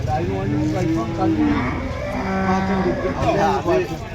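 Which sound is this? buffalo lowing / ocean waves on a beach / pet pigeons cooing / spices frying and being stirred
buffalo lowing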